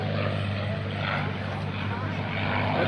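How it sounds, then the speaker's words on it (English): A P-51 Mustang rolls through a barrel roll at an airshow at NAS Oceana, its propeller engine a steady, loud drone that holds without a break for the whole stretch. "That barrel roll shows you the vertical capabilities of the Mustang"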